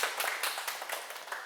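Audience clapping in a hall during a Buddhist teaching talk, a dense spread of many hands applauding steadily at moderate distance, with no voices over it.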